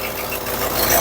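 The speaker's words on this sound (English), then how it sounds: "Got some massive exhaust leaks." A vintage Ford Econoline camper van engine runs with a massive exhaust leak, a loud close rough rumble with rapid ticking puffs, steady and slightly rising over about a second.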